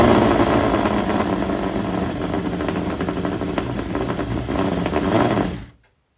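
A Norton Nemesis V8 motorcycle engine fires up and runs loud and rough up close for about five seconds, then cuts off abruptly into silence.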